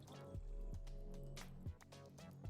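Water placed in Minecraft Java Edition gives soft, repeated liquid sloshes and bubbling gurgles, low and quiet, sounding several times in an irregular rhythm.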